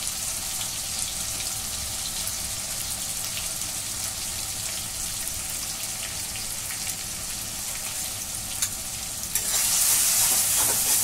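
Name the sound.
stirring turmeric and chili powder in pan for chicken curry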